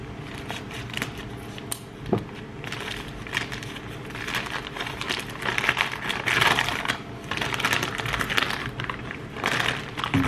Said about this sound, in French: Donc, je vais prendre mon ciseau.